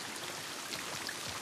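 Steady rain ambience from The Last of Us Part II, a soft continuous patter of raindrops on surfaces at moderate distance, with no thunder and no voices.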